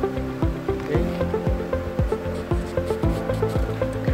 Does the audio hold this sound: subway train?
no